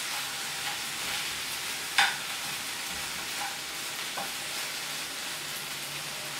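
Okra (bhindi) sizzles steadily in a hot pan while being stirred, a continuous close hiss broken by a few sharp scrapes of the spoon against the metal.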